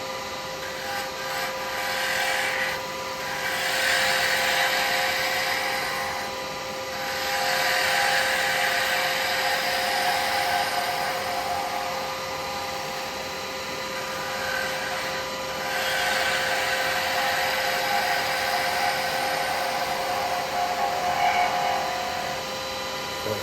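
A wood lathe turning a snowman icicle while a detail chisel tapers the piece, giving a steady, loud whirring hiss with rough scraping that swells and fades in waves, with no talking.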